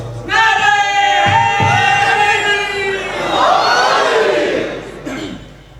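A large crowd at a Shia religious gathering led by a zakir chants religious slogans in loud, sustained massed voices that swell and fade over several seconds, rising again toward the end.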